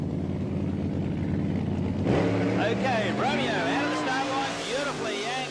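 1988 funny car drag racing down the track, a low engine rumble that swells into a roaring pass with rising and falling pitch, under excited commentary.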